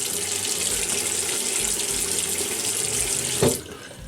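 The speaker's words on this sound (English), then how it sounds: "Now I'm gonna wet my face with some cold water." Cold tap water runs steadily into a bathroom sink while a face is splashed, a loud continuous rush ending with a brief splash before the flow drops away.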